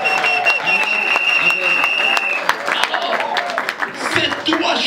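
A church congregation applauding and cheering the Lord, a loud sustained wash of clapping from a crowd, with a voice speaking over it and a ringing tone in the room.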